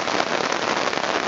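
A steady, dense hiss of heavy rain falls during flooding, pouring continuously and loudly with no gaps and no voices.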